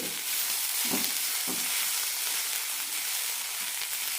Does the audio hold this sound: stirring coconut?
yes